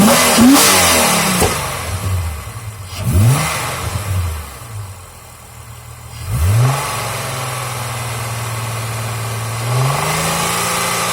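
A Holden VT Calais with the Ecotec V6 and MACE engineering modifications revs up in several strong bursts, each rising and falling before settling back to a steady idle, recorded close to the engine.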